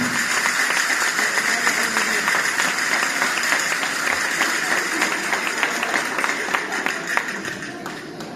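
Crowd applause at a Ballada de Gitanes folk dance festival in Parets del Vallès, a steady wash of clapping heard from a distance, fairly even and continuous before tapering slightly at the end.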